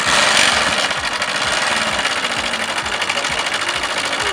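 A motorcycle engine runs steadily close by on a road in Ouagadougou, giving a continuous buzzing, rattling drone with a fast regular pulse throughout and no talking.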